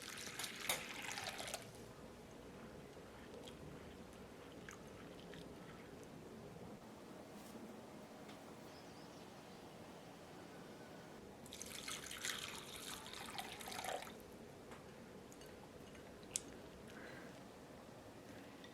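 Raisins and dried cranberries being rinsed under running tap water, with a steady faint trickle and two louder splashy bursts of flowing water near the start and middle.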